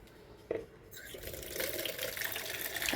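Water running from a tap as plants are watered in the morning, beginning softly after a brief thump, then a steady splashing flow that builds slightly, with faint speech in the background.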